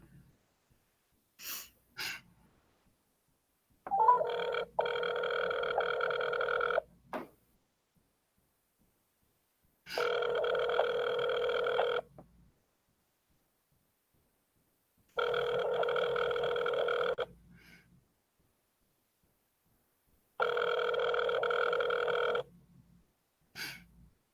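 A telephone rings repeatedly during a call at a school board meeting, four steady tone bursts of about two seconds each separated by pauses, fairly quiet, with faint breathing between rings and no talk over them.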